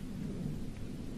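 Thunder rolls through a storm with rain falling, a dense low rumble filling the short stretch at steady loudness with no voices.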